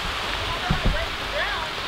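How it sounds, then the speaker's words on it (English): Rain falls steadily outdoors as a constant broadband hiss during a drone flight, with a couple of faint voice bursts briefly over it. "It's raining quite a bit."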